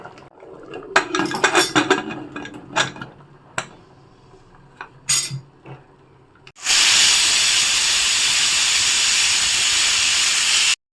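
A pressure cooker holding mushroom biryani lets out a loud, continuous steam whistle that bursts in partway through and holds steady to the end, after scattered light clinks of kitchen utensils.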